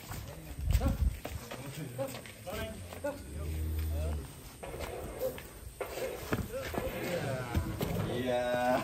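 Heavy cow hooves thud and clop on hard ground as the cow is led into a pen, with people talking and faint farmyard noise around.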